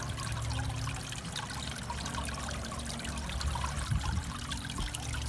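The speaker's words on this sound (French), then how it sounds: "La deuxième sortie du bassin, qui sert de trop-plein à la chambre, va alimenter la cascade." Overflow water from a homemade chamber-filter garden pond runs into a cascade, making a faint, continuous trickle and splash with a low steady rumble beneath.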